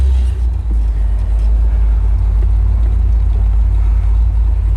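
A 1968 Corvette 427 big block convertible engine runs steadily with a deep, constant low rumble, close and loud, with no talking.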